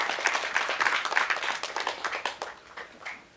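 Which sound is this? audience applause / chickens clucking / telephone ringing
audience applause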